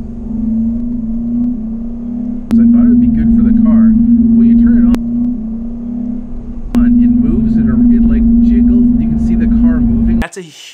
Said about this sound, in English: I'm accelerating.